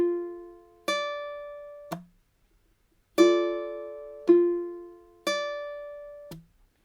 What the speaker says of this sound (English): 5-5 palm mute.